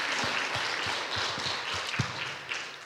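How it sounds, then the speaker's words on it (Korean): A church congregation at an Easter service claps in a faint, distant wash of applause, with sparse individual claps and taps standing out over the steady patter for a few seconds. "이 일을 행하신 하나님께 우리 큰 박수로 영광 돌리면 감사하겠습니다."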